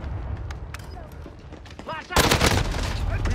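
Gunfire in the video game Call of Duty: Modern Warfare, a few sharp shots early on, then a sudden loud sustained burst of automatic fire, with game voices talking in the background.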